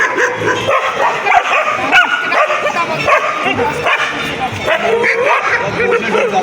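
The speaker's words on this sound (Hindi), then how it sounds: "जैसे ही आप देखो ये 3 डॉग" Three indie dogs on a city street bark, yip and whimper near and loud in rapid, overlapping bursts, with people talking among them.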